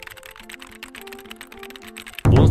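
Rapid keystrokes clatter on a Monstar Gear Aqua 67 mechanical keyboard with a transparent acrylic body, a quick, light, uneven stream of clicks before a sudden loud burst at the end.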